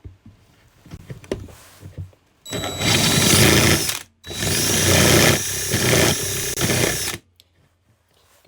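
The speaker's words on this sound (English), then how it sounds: "So what I'm going to do is just drill down." Power drill boring down into a pen blank clamped in a vise, two loud sustained whirring runs separated by a short pause, with quiet handling clicks before and after.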